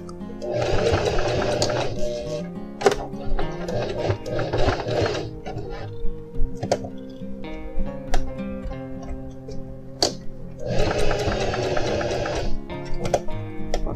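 A sewing machine stitching the side seam of jeans runs in three bursts of rapid rhythmic whirring. Quieter clicks and handling taps fill the pauses between them.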